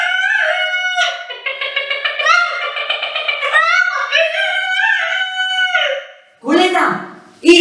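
A rooster crows in a long, warbling call lasting several seconds, a voice imitating it in a storytelling setting, followed by a couple of shorter bursts near the end.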